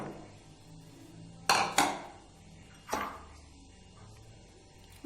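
Potatoes drop into a mixing bowl with a few sharp clattering knocks spaced apart in a quiet kitchen, the bowl ringing briefly after each impact.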